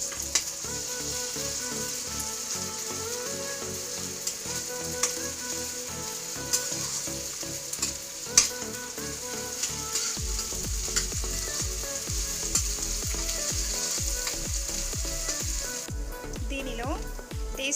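Vegetables with ginger garlic paste being stir-fried for veg noodles, giving a continuous hiss and sizzle in the pan, broken by scraping stirring strokes, with a voice talking over the cooking.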